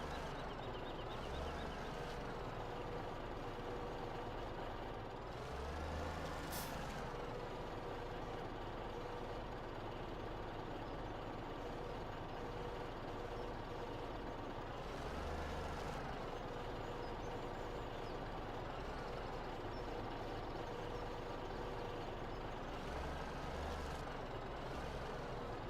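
A log-hauling truck in Farming Simulator 17 runs with a steady, loud engine drone throughout, with periodic swells in engine noise and a brief high hiss suggesting an air brake release.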